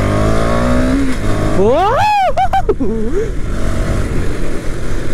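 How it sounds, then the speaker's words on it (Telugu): A 250cc motorcycle accelerating in fourth gear on a ride toward Yarada beach, its loud, close engine drone running throughout, while the rider lets out a long, excited vocal whoop over it. "సో ఇది నా ఫస్ట్ టైం 250cc బైక్ తీయడం అండ్ ఇప్పుడు ఫోర్త్ గేర్లో ఉన్నాం"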